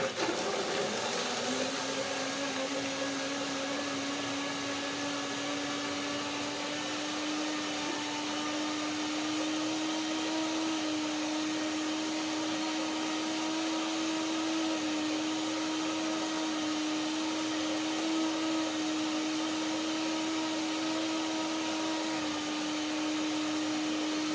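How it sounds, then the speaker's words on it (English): A blender blends water and ingredients for tzatziki, whirring in one steady, unbroken drone close by, with a high motor whine and no talking. "Blender dance."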